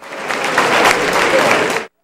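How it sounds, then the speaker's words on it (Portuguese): Audience applause at a university anniversary ceremony, a dense wash of clapping from a full hall that rises quickly, holds for nearly two seconds, then cuts off abruptly. "Como resposta, a plateia aplaudiu."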